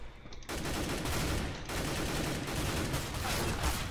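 Rifle gunfire in CS:GO, the counter-terrorist rifle sprayed in sustained full-auto bursts after a short quiet start, loud and close, with a brief break before firing resumes.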